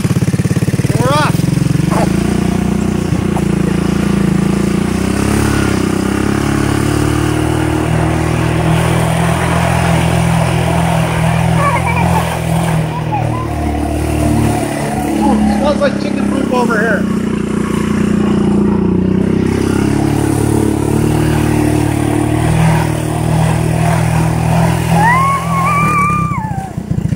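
A 2016 Honda 200s motorcycle is ridden off, its loud, close engine droning steadily throughout with rising and falling revs as it pulls away and shifts gears, with occasional voices in the background.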